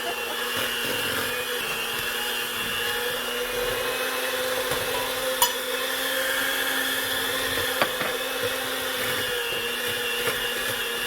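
Electric mixer beating pound cake batter of butter, sugar and flour in a bowl with a rubber base, a steady whirring drone, close and fairly loud, with a few sharp knocks as the bowl shifts.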